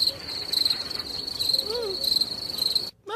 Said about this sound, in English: Now try the crickets again.